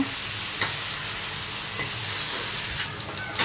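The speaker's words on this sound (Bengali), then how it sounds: "সবজিটা দিয়ে দিয়েছি, এবার ভালোভাবে মিশিয়ে নেব।" Vegetables and poa fish sizzling in a hot pan while being stirred: a loud, steady frying hiss throughout, broken by a few soft scrapes and clinks of the spoon against the pan.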